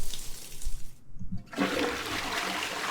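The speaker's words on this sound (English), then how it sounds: "Press F to use the toilet. Oh, that's new. Funny. Flushes." A toilet flushing aboard a base in the space survival game Empyrion Galactic Survival; after a short quiet gap, a loud rushing whoosh of water starts and keeps pouring steadily, with no talk over it.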